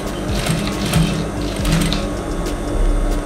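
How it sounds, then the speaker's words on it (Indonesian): A sewing machine runs steadily at close range, stitching blouse fabric with a rapid mechanical whir and a rhythmic needle tick. There is no speech. "Nah, kita jahit dulu ini."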